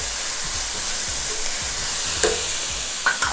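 Onions and thyme frying in a pan, with a continuous close sizzle under repeated light scraping stirs and a few sharper clinks near the end.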